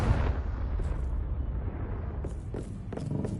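A Confringo blasting spell goes off in a video game as a deep, loud rumbling blast that rolls on steadily, with a few sharper crackles and pops near the end.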